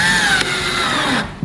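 A power drill whines steadily as it drives a 1.25-inch screw into wood for a studio desk build, one continuous close burst that tapers off near the end.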